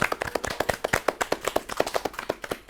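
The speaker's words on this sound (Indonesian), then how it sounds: "Tepuk tangannya dong buat kita semua." An audience claps to welcome tarung derajat martial arts athletes onto a campus talk show, a brisk, evenly spaced run of hand claps heard clearly with little else around it.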